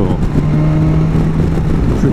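A BMW S1000 XR motorcycle engine runs close and loud, with a steady, throbbing drone and no clear climb or drop in revs across the short stretch.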